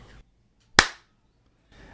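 A single sharp hand clap dropped into an Audacity recording, loud and isolated, with a quick decay into silence between brief stretches of quiet background sound.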